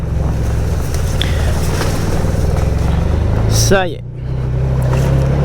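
Can-Am Maverick Trail 700 side-by-side engine running with a steady droning rumble under wind noise, a brief rising rev near the end, with a short spoken remark.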